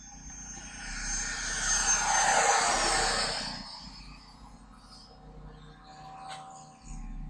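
Low-flying fixed-wing airplane passing over a runway, its engine roar swelling loud and close before fading off into the distance, with a few bird chirps around it.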